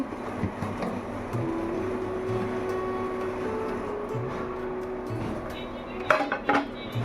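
A dum biryani pot sealed tight with dough is opened, and a few sharp metallic clinks of the lid and utensils come near the end over a steady kitchen background hum.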